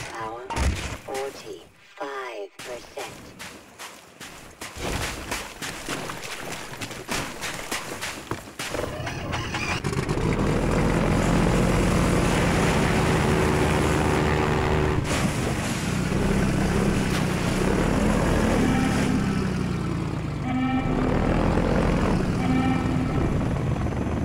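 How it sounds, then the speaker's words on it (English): Helicopter in the video game Half-Life 2, a loud continuous rotor and engine roar that swells in after a stretch of scattered game effects and holds steady and close through the rest of the scene. "Is that the chopper?"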